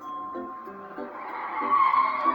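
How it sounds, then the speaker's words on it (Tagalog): A car drives past with its tires skidding and squealing, a steady engine hum joined by repeated short tire screeches that grow louder toward the end. "Tignan nyo, mayroong kotse."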